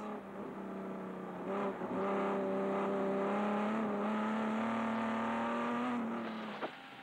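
A historic race car engine holds a steady high drone through a chicane at Goodwood Motor Circuit, West Sussex, rising slightly in pitch, then abruptly drops near the end as it brakes or shifts, loud and close.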